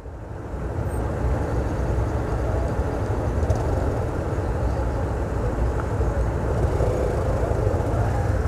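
Heavy road traffic with many cars in Natal's northern zone, a steady wash of engine and tire rumble heard from inside a moving vehicle, fading up at the start and then holding constant.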